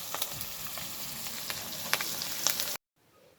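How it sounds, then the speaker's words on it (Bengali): Ground spice paste sizzles and spits steadily in a hot oiled pan in a home kitchen, with occasional sharper crackles, close and moderately loud, before cutting abruptly to near silence. "ভাজা হয়ে গেলে তার মধ্যে একে একে এখন বাটা মশলাগুলা দিয়ে মশলাগুলাও কিন্তু ভেজে নেব।"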